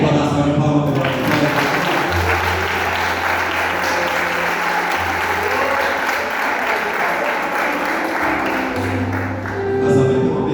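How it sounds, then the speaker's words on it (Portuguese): A church congregation at a family worship service gives a long, loud round of applause. The clapping is dense and sustained, with a low hum and faint voices underneath, and it fades briefly near the end. "Vou dar salva de palmas"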